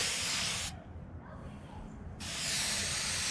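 A spray bottle mists Chemical Guys Hydrocharge ceramic spray outdoors, giving two close, loud hissing bursts separated by a short pause.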